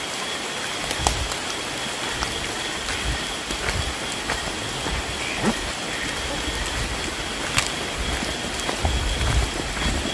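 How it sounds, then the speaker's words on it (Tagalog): Steady rain falls and patters on surfaces, a dense constant hiss with occasional louder drips, continuing throughout without any voices. "Kasi umuulan talaga"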